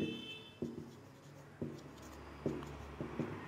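A pen scratches across paper in short, quiet strokes every second or so as a class 8 maths solution is written out in a calm, close setting.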